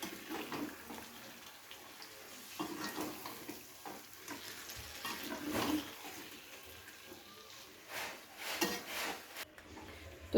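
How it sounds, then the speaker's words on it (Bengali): Chicken pieces frying with spices for a spicy chicken curry, stirred in the pan: faint intermittent scrapes and soft sizzling bursts spread over ten seconds, no voices. "হালকা একটু মশলার সাথে নাড়াচাড়া করে ভেজে নেব।"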